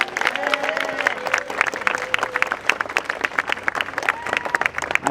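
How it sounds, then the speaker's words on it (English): A gathering honouring a nominee for a Toronto lane naming claps for a speaker in moderate, uneven applause, while voices talk over the clapping throughout. "Let's give him a round of applause."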